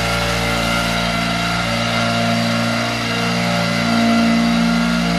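A Mercury 4-stroke outboard engine that only keeps running with the choke on holds a steady high idle, a loud buzzing drone that stays close and even throughout with a slight swell near the end.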